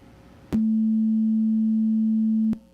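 A loud, steady 220 Hz pure tone at a low-middle pitch sounds alone for about two seconds, starting and stopping abruptly.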